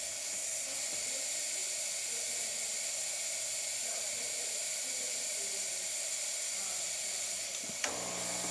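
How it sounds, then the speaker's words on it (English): A Rancilio Silvia espresso machine vents steam from its boiler, a steady broad hiss running continuously at close range, ending with a brief click near the close. "We're gonna run all that steam out so that we can start brewing."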